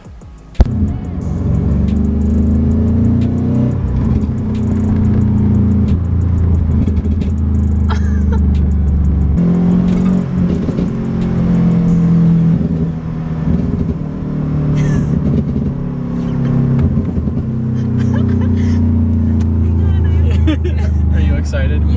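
A tuned Subaru car engine revs loudly and close by, a thick, steady drone that swells and eases in several waves for about twenty seconds with no pause.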